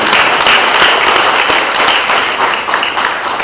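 A large student audience gives loud, sustained applause, dense steady clapping rolling on without pause and filling the room.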